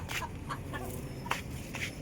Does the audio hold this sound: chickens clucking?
yes